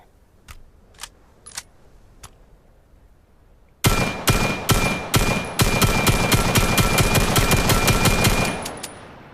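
Single shots from a non-automatic gun in the game Vail: a few faint spaced reports, then loud rapid repeated firing with mechanical clicks, ending abruptly.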